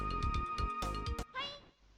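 The Live A Live video game battle plays a cat kick attack with rapid bursts of striking sounds followed by a bright, rising cat meow, ending in a quiet tail over game music.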